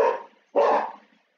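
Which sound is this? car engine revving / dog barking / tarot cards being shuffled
dog barking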